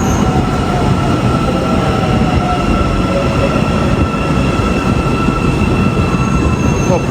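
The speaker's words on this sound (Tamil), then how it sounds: "ட்ரெயின் வந்துக்கிட்டே இருக்கு" A train rolls past close by with a loud, steady rumble and faint metallic squealing from the wheels.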